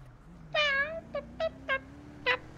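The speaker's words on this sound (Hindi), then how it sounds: "दिमाग खराब हो गया बिल्ली का आवाज सुन सुन के" A cat meows in a GTA roleplay game: one long drawn-out meow, then four shorter ones in a loose sequence, clear and fairly close over a low steady hum.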